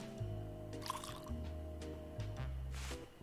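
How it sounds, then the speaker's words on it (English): Water pours and drips into a cup in a video game, a short bubbling trickle over a steady low musical drone, with a couple of brief splashy bursts. "I'll just grab a cup of water."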